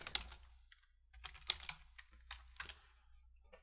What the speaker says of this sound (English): So we'll just type in the command to get that.